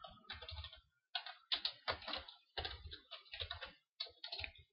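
Someone types code on a computer keyboard in quick clicking bursts separated by brief pauses, close up and clear, with no talking.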